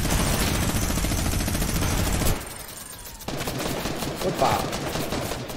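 Heavy automatic gunfire from two directions in a video game, loud and continuous bursts of rattling fire that break off briefly before resuming, with a voice exclaiming over it.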